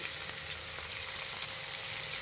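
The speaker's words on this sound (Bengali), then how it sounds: "এবার কুচনো পেঁয়াজটাই আলুর সাথে আমি ভেজে নেব" Chopped onion and potatoes fry in a pan with a steady, close, crackling sizzle that holds evenly throughout, with no talking.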